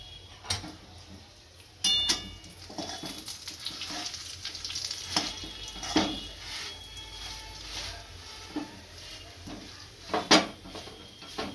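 A sugar-free modak filling of coconut, pistachio and cashew is stirred in a pan. A faint sizzle runs under irregular spatula scrapes and sharp metallic taps against the pan.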